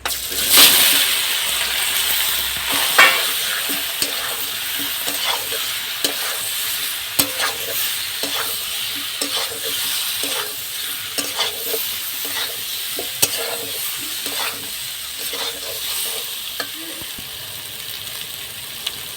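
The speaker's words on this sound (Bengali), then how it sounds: "ফোড়নে দেবো তেজপাতা পাঁচ ফোড়ন আর শুকনো লঙ্কা সেদ্ধ করা কচু" Bay leaf, panch phoron, dry chili and boiled taro fry in oil left from frying fish, a loud steady sizzle broken by repeated scraping stirs of a spatula, no talking.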